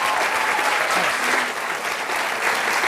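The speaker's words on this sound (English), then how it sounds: "I'd like to ask you give a round of applause for your colleagues who just did those introductions" An audience at a talk on democracy in the Muslim World breaks into a steady, full round of applause, a dense wash of clapping that holds for the whole stretch.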